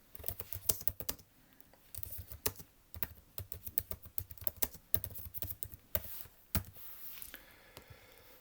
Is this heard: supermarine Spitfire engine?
no